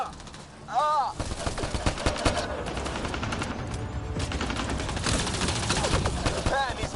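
Sustained automatic gunfire in the sci-fi game Mass Effect Andromeda, loud and continuous rattling bursts with chirping weapon effects, running throughout.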